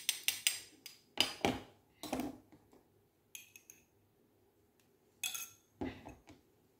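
A spoon stirs curd and coffee powder in a bowl, giving a series of close, irregular clinks and scrapes in short bursts separated by brief pauses.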